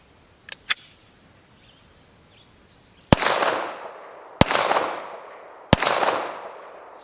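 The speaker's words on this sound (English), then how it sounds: "first I'm going to fire 3 rounds out of this XD 9mm" Three sharp gunshots from an unsuppressed XD 9mm pistol crack out at even intervals, each loud report trailing off in a ringing decay, after a couple of faint clicks and with no talk.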